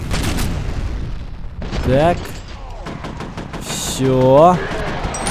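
Grenades blow up in the video game F.E.A.R. Extraction Point, with two loud booming bursts about two seconds apart amid ongoing combat noise, while someone speaks briefly in Russian.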